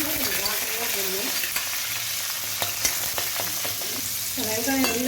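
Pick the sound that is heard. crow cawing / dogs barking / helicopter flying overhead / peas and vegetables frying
peas and vegetables frying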